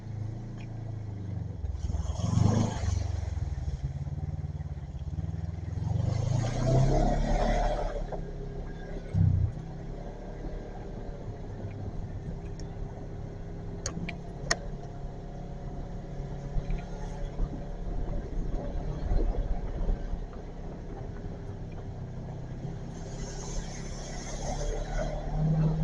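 Vehicle driving along a gravel trail road at Mt. Magazine, a steady engine rumble and crunching tire noise throughout with occasional bumps and louder swells.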